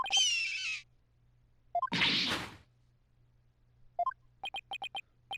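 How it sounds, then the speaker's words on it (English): Bird calls from the video game Apollo Justice Ace Attorney, a restless bird, come as short chirps and a quick series of sharp repeated tweets, alongside a brief whooshing swipe and a burst at the start, fairly faint overall. "who is that cute little creature? Such a restless bird"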